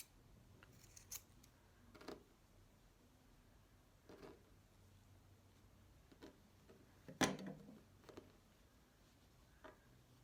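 Scissors cutting wool yarn for a rainbow craft, heard as a few sharp, quiet snips spaced a couple of seconds apart in an otherwise still room, without speech.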